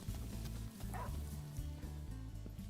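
A dog barks and yips in Final Fantasy XV, short bright calls sitting over a loud, steady low musical score, the animal fairly distant and partly buried.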